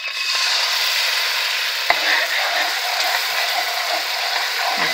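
Sofrito fries in a quarter cup of oil, giving a loud, continuous sizzle with a brief scrape or clack of a stirring utensil partway through.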